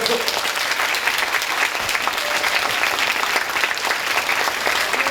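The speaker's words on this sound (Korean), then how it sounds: "장더희 교수님, 박수." An audience at a humanities lecture breaks into dense, steady applause to welcome a professor onto the stage, a continuous wash of many hands clapping at close range.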